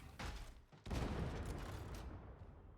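Grenade blast in the Warhammer 40K Darktide video game, a sharp faint thump followed by a bigger rumbling burst that decays slowly into diffuse noise.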